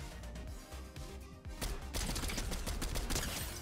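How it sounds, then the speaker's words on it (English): MK-7 assault rifle fire from Fortnite rattles in rapid bursts, fairly quiet at first then building into sustained automatic shooting near the listener. "this gun is nasty"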